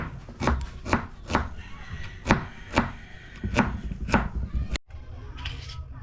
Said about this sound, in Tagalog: Itong sibuyas naman yung ating i-slice.